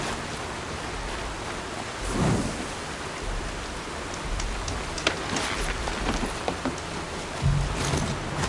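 Steady rain with thunder in a Horizon Zero Dawn thunderstorm, a constant broadband hiss broken by a few low rumbles and sharper cracks.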